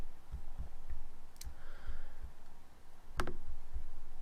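Sharp mouse clicks on a Save button, a couple of crisp isolated taps near the microphone over a quiet room hum, with soft low thumps in between.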